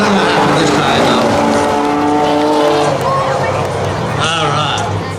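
Street legal cars race at Beech Ridge track during a Day of Destruction drag event, with loud engines revving and tires squealing close by while an announcer talks over them.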